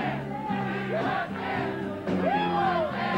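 A crowd at a Bush-Quayle campaign rally on the 1992 election night cheers and whoops in a dense roar, with scattered yells and shouts rising over it.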